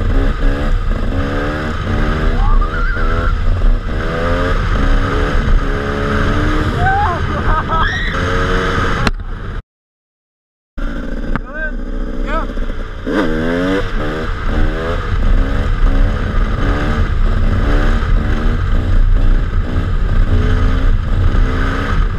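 Dirt bike engine repeatedly revving hard and climbing in pitch while riding wheelies, loud and close, cutting out for about a second midway before roaring back; voices are faintly present.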